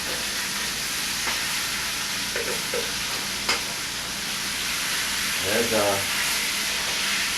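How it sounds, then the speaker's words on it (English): Spare ribs and sausage sauté in a pan, giving a steady broadband sizzle with occasional stirring scrapes and a clink, close and continuous; someone speaks briefly. "spare ribs and sausage being sauteed"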